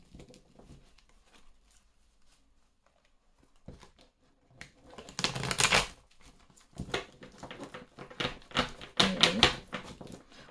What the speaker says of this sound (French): Ça a du mal à se mélanger ce soir.